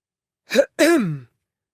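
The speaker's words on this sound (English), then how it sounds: "A man clearing his throat caught Talia's attention" A man clears his throat once, a short rasp followed by a longer rough, voiced rumble, close and clear against silence.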